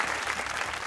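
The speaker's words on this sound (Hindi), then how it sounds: "तालियां बजाइए फवाद आलम।" Brief burst of steady applause for Pakistani cricketer Fawad Alam from a studio audience, dense and even throughout the short moment.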